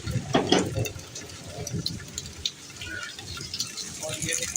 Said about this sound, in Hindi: ये देखिए सारा पानी आ रहा है गली का